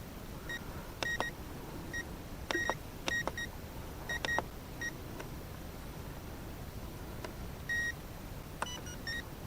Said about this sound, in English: It has a battery alarm.